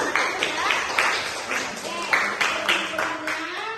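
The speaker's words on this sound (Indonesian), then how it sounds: "beri tepuk tangan untuk anak-anak" Children in a classroom clap together in a brief round, the claps uneven and moderately loud, with voices talking over them.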